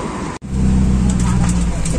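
A car or bus on an Indonesian road, a loud close rumble of engine and road noise that cuts out briefly then returns strong and steady, with voices faintly mixed in.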